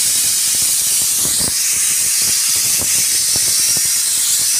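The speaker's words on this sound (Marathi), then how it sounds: "इथे कुकरला मोड आलेली मूग, आठिळ्या फणसाच्या आणि बीट असं कुकरला करत ठेवलं" A pressure cooker holding sprouted moong, jackfruit seeds and beetroot releases a loud, steady hiss of steam. Scattered faint clicks and rattles run beneath it throughout.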